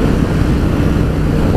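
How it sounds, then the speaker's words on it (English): A Triumph Thunderbird Storm motorcycle engine rolls on in gear with a deep, steady, loud rumble, smothered by heavy wind rush at riding speed. "The engine is under no strain whatsoever."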